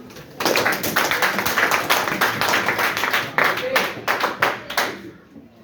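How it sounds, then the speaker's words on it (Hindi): An audience claps at a talk or seminar, a brisk burst of hand claps that starts sharply, runs at an even loud level for several seconds with distinct individual claps, then tapers off at the end. "ताली बजाओ इनके लिए।"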